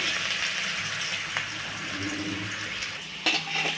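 Potatoes frying in mustard oil in a kadai for a Bengali mutton curry: a dense, continuous close sizzle with light bubbling, joined near the end by a brief clatter as pieces are lifted out.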